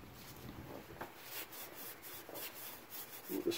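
Scouring pad scrubbing the bushing bore of a clean Honda Accord front control arm, producing a faint, steady rubbing with soft repeated strokes and no voices.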